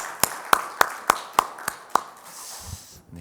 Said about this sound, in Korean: 우리의 찬양을 받으신 하나님께 다시 한번 영광의 박수 올려드릴까요?